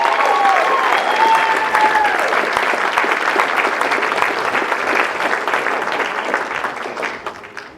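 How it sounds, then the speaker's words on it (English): Sustained applause from a large audience, steady and loud, slowly tapering toward the end with a few faint whistles early on. "big round of applause"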